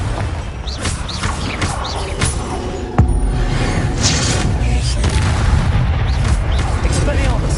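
Repeated Confringo blasting spell explosions in Hogwarts Legacy combat, loud booming bursts in quick succession with a sharp hit at the midpoint, over dense battle noise and brief voices.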